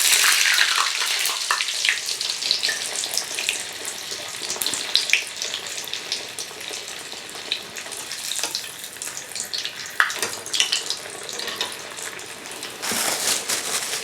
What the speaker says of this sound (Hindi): इधर हमारी टिक्की फ्राई हो रही है